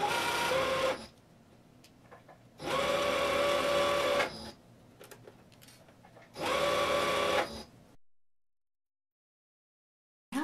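A Singer Curvy sewing machine stitching a pajama pants seam runs in three bursts of fast, steady whirring, each lasting one to two seconds, with quiet pauses between them and silence at the end.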